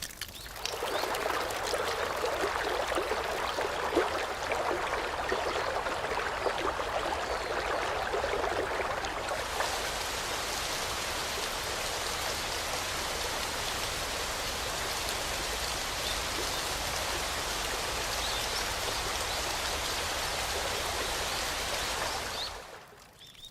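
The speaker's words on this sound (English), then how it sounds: "The cold mountain water spreads over the dry fields." Cold mountain water rushes steadily over dry rice fields in a Japanese satoyama landscape in early spring, a continuous dense hiss that brightens partway through and cuts off at the end.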